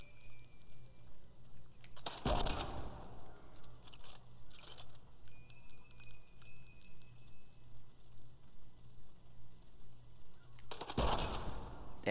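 Suppressed rifle gunshots in the video game Sniper Elite 5: two sharp, fairly loud shots about nine seconds apart, with fainter clicks and a low pulsing hum between them.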